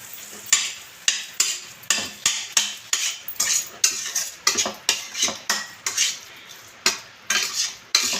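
Flour roasting in a kadhai is stirred steadily with a spatula, producing a regular run of scraping strokes about twice a second, close and fairly loud, with a soft dry sizzle underneath and no talking.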